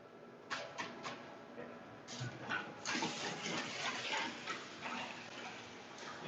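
Freshly cooked ramen noodles from a commercial ramen machine are rinsed and rubbed by hand under running water, giving close splashing and sloshing with a few sharp clicks and faint talk in the background.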